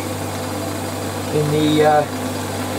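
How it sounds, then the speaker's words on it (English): A metal lathe turns a quarter-inch brass rod held in the chuck, giving a constant low mechanical hum beneath a man's speech, with a brief rise in level partway through. "I probably should put my lathe in high gear for this small diameter stuff."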